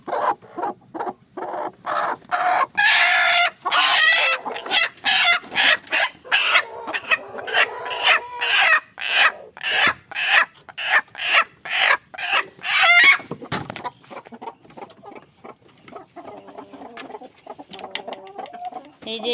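Hens clucking in a backyard coop where one red hen is sitting on eggs, a rapid series of close, loud rhythmic clucks and squawks that thin out toward the end.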